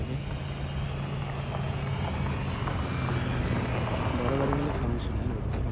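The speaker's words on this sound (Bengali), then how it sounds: "অনেক গাড়ি কিন্তু এখন আসতেছে" Many cars and larger vehicles coming down from Mount Uhud at night, past two in the morning, make a continuous engine drone and traffic rush that swells slightly toward the end, with voices faintly present.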